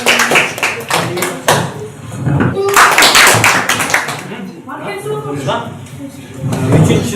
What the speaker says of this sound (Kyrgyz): Кайсы топ бүткөн болсо кол чаап коебуз.